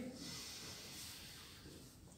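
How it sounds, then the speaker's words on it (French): A person draws a long, steady breath in during a breathing exercise at a judo club session, a continuous airy hiss lasting a couple of seconds with no talk over it. "Inspire."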